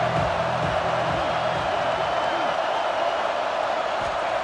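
Stadium crowd at a college football game roars steadily on a third-down red zone play against South Carolina, a dense continuous wash of cheering with faint voices underneath throughout.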